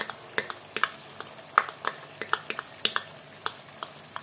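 Chopped garlic goes into a pan and fries alongside chicken livers, with quick crackling sizzles and sharp spattering pops in an irregular rhythm, close and fairly quiet, with no talk.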